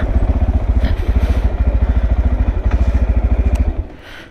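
Motorcycle engine idling close by with a steady pulsing throb, then cutting off near the end as it is parked in the shade in a town in El Salvador.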